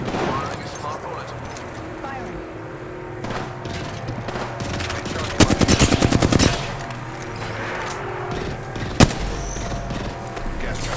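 Rapid gunfire from a smart bullet weapon in a battle royale video game, a burst of quick repeated shots with a sharp single report later, heard over game effects and talk.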